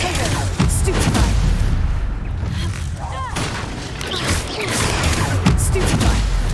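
Hogwarts Legacy spell combat with the Stupefy spell: dense, overlapping bursts and booming magic impacts with whooshes keep firing over several seconds, mixed with game music while a voice calls out spell names.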